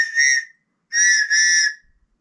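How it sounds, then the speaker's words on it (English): A flat plastic TOPS emergency whistle blown in three sharp, loud blasts, one short burst followed by a pause and then two longer back-to-back blasts, shrill and clear with nothing else behind them. "a whistle, a tops whistle at this one, and it's a flat"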